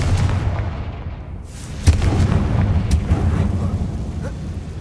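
Confringo blasting spell going off in Hogwarts Legacy, a heavy booming blast with rumbling low end and a sharp crack midway, surrounded by steady game ambience.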